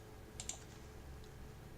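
Typing math symbols such as square roots and fractions on a computer keyboard, a few quick soft keystrokes near the start followed by quiet, faint and close.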